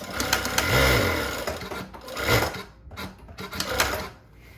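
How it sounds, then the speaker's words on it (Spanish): A JUKI DDL-8000A industrial sewing machine, running with its thread-cutting function switched off, hums and whirs in close, repeated bursts of stitching, its motor swelling and easing in uneven surges with brief pauses between. "yo voy a coser y la máquina no me va a cortar el hilo"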